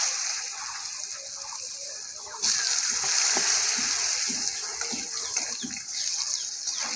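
Potatoes are added to a frying pan for a potato, eggplant and small fish dish, jumping the hiss to a louder sizzle with scattered stirring clicks and scrapes against the pan.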